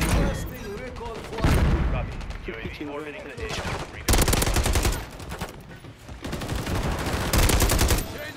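Assault rifle fire from Modern Warfare 3 rips out in long, loud automatic bursts with booming reports between them, while players talk over the shooting throughout.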